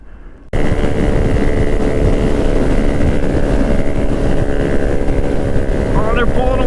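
A 2022 Honda Grom motorcycle being ridden, its small engine droning loud and steady after an abrupt start, mixed with heavy wind buffeting on the microphone.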